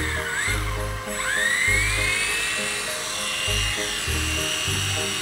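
Small radio-controlled helicopter on its first flight: a high, whining rotor buzz that rises and falls in pitch as it spools up, over a rhythmic low pulsing thrum, close by, no talk.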